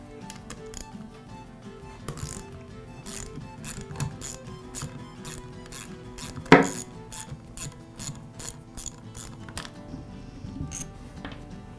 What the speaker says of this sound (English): the next step is to remove the head bolts.